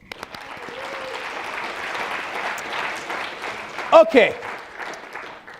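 Audience applause follows a speaker's talk about a woman he would walk with for thirty years, a steady crowd clapping for several seconds at moderate level with a short spoken word and a louder bump near the end.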